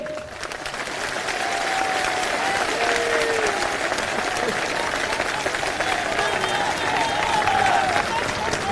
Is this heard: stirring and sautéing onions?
no